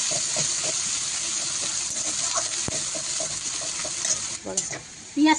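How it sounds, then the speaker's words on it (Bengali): Onions frying in a pan for a mutton curry, a close, steady hiss and sizzle with stirring scrapes and clinks, the sizzle briefly dipping then surging near the end. "পেঁয়াজটা লাল লাল করে ভাজা হয়ে গেছে"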